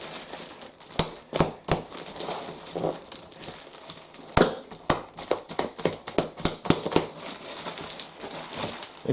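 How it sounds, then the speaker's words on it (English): A delivered parcel is opened with crinkly packaging rustled and crumpled in close, irregular bursts, with sharp taps and snaps scattered through the whole stretch. "So a parcel has arrived with my new goodies. So let's open it up."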